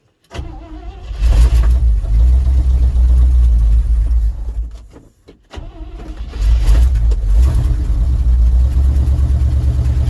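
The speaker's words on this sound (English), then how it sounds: "Oh, we still got the high idle on." The engine of a '67 International 4x4 truck starts and runs at a loud, steady high idle, then dips and nearly stalls before roaring back up to a rough, close rumble.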